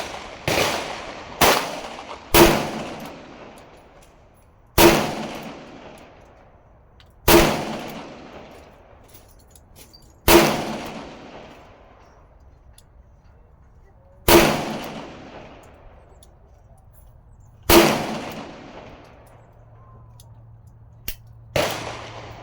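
Seven loud, sharp shots from a Colt Kodiak .44 Magnum revolver ring out a few seconds apart outdoors, each followed by a long decaying echo.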